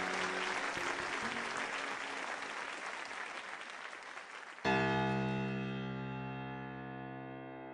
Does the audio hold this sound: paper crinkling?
no